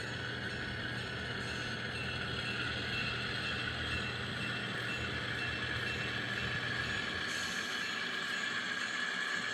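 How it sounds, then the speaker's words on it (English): A Rapido E8 model diesel locomotive runs along a layout with a steady, continuous mechanical hum and faint rail rumble, fairly quiet and unbroken, with no voices. "a Rapido E8 that I got at a train show."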